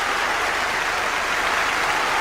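Eurovision Song Contest 1994 audience applauding after a song, a dense, even wash of clapping from a large crowd, steady throughout.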